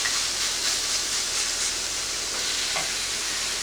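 Garlic fries in a pan of meatball sauce with a steady, close, bright sizzle and hiss that stays even throughout, with no talking over it.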